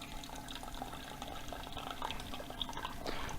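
Water trickling and dripping from a bag of steeped brewing grain as it drains, a soft, steady patter with scattered drips throughout, fairly quiet.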